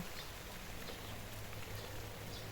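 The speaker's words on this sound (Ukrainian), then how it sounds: "тепер оце перші два дні дощу" Steady rain falls on a vegetable garden during a wet spell, a continuous even hiss of drops with no distinct individual hits, moderately loud and uniform throughout.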